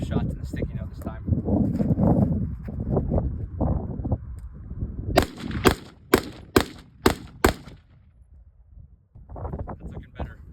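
Handgun fired rapidly during a Bill Drill at a sticky note target, six sharp loud shots in quick even succession, with people talking before and after.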